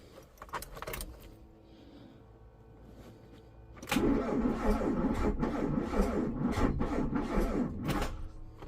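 Keys jangle in a few quick close rattles in a quiet garage, then an old Polo's engine is cranked and turns over in a loud, steady churn.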